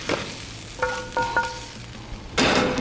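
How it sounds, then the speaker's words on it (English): Rice fries in a very hot pan of oil, a sizzle that flares up sharply near the end as grains are stirred or added, with a few faint clinks and bumps from utensils earlier on. "now we're going to start frying the rice"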